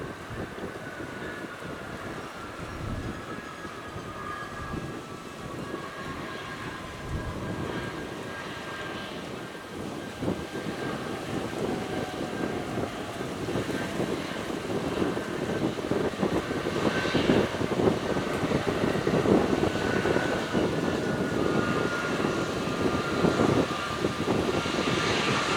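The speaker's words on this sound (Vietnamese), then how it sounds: "bây giờ mời mọi người chiêm ngưỡng hạ cánh của chiếc Airbus A321 này" An Airbus A321 airliner comes in to land in strong wind, its engine roar steady and fairly loud with a whining tone, growing louder as it nears, mixed with gusty wind buffeting the microphone.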